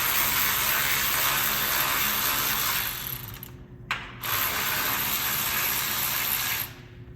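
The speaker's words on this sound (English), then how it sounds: "we're gonna take a 10 millimeter socket. We're gonna remove this bolt here." A hand ratchet with a 10 mm socket clicks rapidly and continuously while removing a bolt on a Jeep Wrangler JL fender liner, loud and close, with a brief pause midway before the ratcheting resumes.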